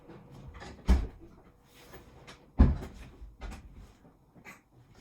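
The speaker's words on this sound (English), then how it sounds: "I'm just going to shut my door" A door in a home sewing room is shut, giving a soft knock followed by a second firmer thud about two seconds later, with faint room noise and a hint of distant talk between.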